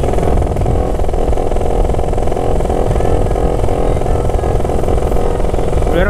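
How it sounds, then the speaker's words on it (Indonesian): A motorcycle fitted with a 10 cm aftermarket exhaust rumbles loudly and close on a group Sunday ride, a constant heavy engine drone with no let-up. "motor gua berisik banget. Gua pakai knalpot 10 cm dong untuk Sermon Cup ini."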